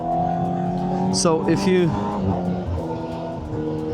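A Honda CBR600RR motorcycle engine revs steadily and climbs through the gears with a sustained, rising drone, while someone speaks briefly over it.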